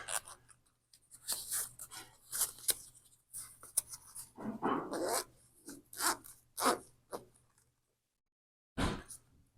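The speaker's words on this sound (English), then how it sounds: "Pull that real snug, and then you can start zipping." Headphone ear pads being zipped onto a pair of E7 headphones, with several bursts of close scratchy rasping and brief pauses between pulls.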